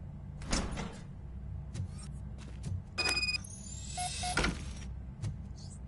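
A mechanical door slides open in the Robocop video game, with a clunk, a rising whir and electronic chimes, followed by a second thump and a brief beep; loud and close, with no one speaking.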